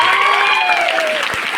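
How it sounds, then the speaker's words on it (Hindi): An audience claps together in a steady, dense wash of applause, with a tonal voice-like sound drifting over it before the clapping thins toward the end. "एक बार ताली बजाओ"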